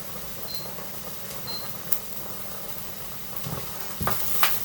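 Mushrooms searing in a hot pan over high heat for a vegetable curry, a steady low sizzle with a few clinks and stirring knocks toward the end.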